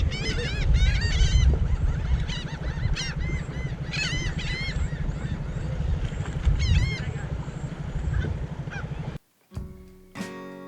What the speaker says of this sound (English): I think the birds and the pigs are going for the food.